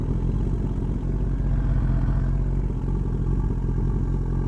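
A race-tuned motorcycle engine, freed of its air-injection system and fitted with new jetting, runs steadily up close, a loud, even, bass-heavy drone with a mechanical clatter and no one talking.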